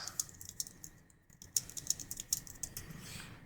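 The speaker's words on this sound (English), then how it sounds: "Now I can type some text." Quiet, rapid typing on a computer keyboard, with irregular key clicks and a brief pause partway through.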